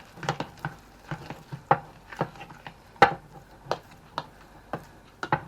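Cheese, onion and potato pie filling being mixed in a bowl after seasoning with salt and pepper, giving a run of irregular close spoon taps and scrapes, with a few sharper knocks against the bowl.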